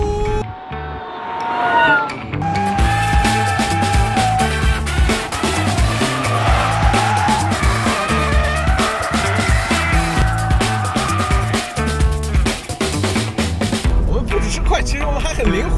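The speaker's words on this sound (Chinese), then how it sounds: "你们听，这台特斯拉的声浪" A modified, stretched extra-long Tesla with its roof removed drives with loud whirring and tire squeal, a steady dense motor-like tone swelling and falling across the whole stretch; there are no clear voices.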